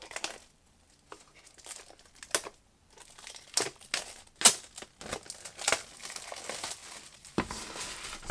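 Crinkling plastic wrap and packaging being torn open on an EP album box set, a series of close, irregular crackles, rips and rustles with short pauses in between.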